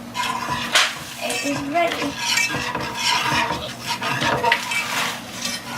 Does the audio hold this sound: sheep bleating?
no